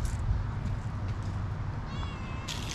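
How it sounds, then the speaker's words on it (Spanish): Kittens meowing at breakfast time, several short high cries over steady low background noise. "Unos gatitos muy preciositos"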